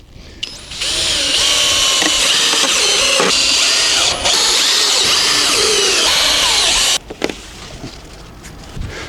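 Power drill driving screws in from below into a wooden table for a terrace beside a camper, a loud steady whirring run lasting several seconds with short bursts and pauses at the end, no talking.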